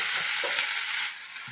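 Chopped potatoes, onion and tomato go into a hot pan together, making a loud, bright sizzle that eases slightly after a second, with light stirring scrapes.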